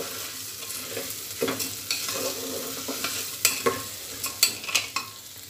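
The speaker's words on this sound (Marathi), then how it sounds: "तांदूळ 1-2 मिनिटं असं परतून घ्यायचे" Rice is sautéed in a pan with a light sizzle and repeated close spatula scrapes and clicks in an irregular rhythm, with no voices.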